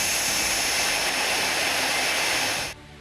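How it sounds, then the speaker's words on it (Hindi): Fighter jets flying during a show of military force: a loud, steady roar of jet engines that holds for several seconds and then cuts off abruptly near the end. "फाइटर जेट उड़ान भर रहे हैं।"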